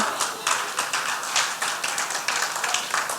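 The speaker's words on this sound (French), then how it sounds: "Mais acclamez quand même pour moi." Congregation clapping steadily through a church testimony service, a dense patter of hands with bursts of cheering mixed in, fairly close and continuous.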